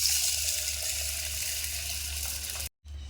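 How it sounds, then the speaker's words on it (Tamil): Water pours and rushes steadily over moong dal in a bowl, a close, continuous splashing that cuts off abruptly near the end and then resumes briefly. "இது 2 முறை தண்ணி ஊற்றி வாஷ் பண்ணி எடுத்துக்கலாம்"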